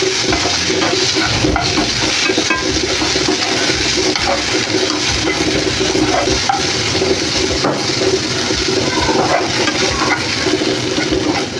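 Onion and tomato sauté in a pan for a village-style spicy egg curry, giving off a loud, dense, continuous sizzle and hiss with occasional stirring clatter close by.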